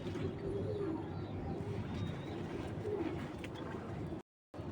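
A large Belgian racing pigeon of about 700 grams coos softly up close, low murmuring coos over a steady room hum, with faint speech in the background.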